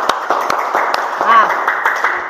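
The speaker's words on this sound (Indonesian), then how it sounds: "Tepuk tangan untuk kelompok 1" A classroom group claps for the first team after a practical workshop session, a light sparse round of hand claps in a steady rhythm running under a person's continuous talking.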